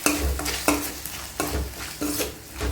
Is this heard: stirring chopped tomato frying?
yes